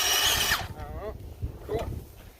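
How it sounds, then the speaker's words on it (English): A Makita 36V earth auger drilling a post hole whirs loudly for about half a second and then cuts off, leaving faint outdoor rumble and brief voices talking afterward. "Oh, here, we'll drill the hole."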